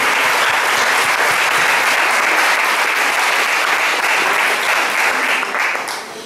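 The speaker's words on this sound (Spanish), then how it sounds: "Vamos a dar un aplauso grande a la palabra de Dios en esta mañana." A congregation at a church retreat gives a big round of applause, a loud, sustained sheet of clapping that holds steady for several seconds and then tapers off toward the end.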